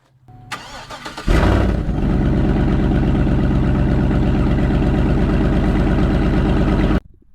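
A car with its stock exhaust, before a muffler swap: a short crank as the engine fires, then a loud, steady, burbly idle that holds evenly for several seconds before cutting off.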